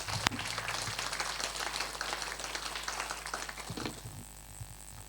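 A conference audience at a plenary session applauds the organizing committee, a sustained patter of many hands clapping that is faint and somewhat distant, then fades out near the end.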